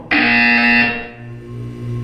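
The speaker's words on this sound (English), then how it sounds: "When you hear the buzzer, look down at the floor." A buzzer in the video game Portal 2 sounds loud and harsh for under a second, then fades into a lower lingering electronic hum.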